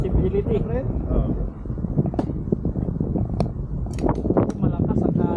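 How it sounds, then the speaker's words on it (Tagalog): Strong wind buffets the microphone outdoors at a long-range target shooting spot, a continuous rough rumble with gusty swells, while people talk over it. "Malakas ang hangin."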